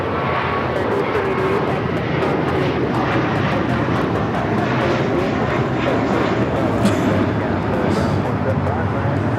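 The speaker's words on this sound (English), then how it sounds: "This is American Airlines 238 taking off to JFK on the A321" An American Airlines Airbus A321 takes off from Los Angeles LAX, a steady loud broadband engine roar filling the whole stretch without letup, with voices faintly mixed in.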